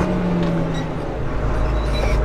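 A tractor downshifting with a double declutch during autumn ploughing, a loud, steady low engine drone whose pitch shifts partway through as the gear changes.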